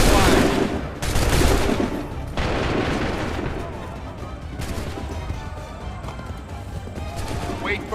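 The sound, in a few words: musket gunfire volley in Assassin's Creed 3 video game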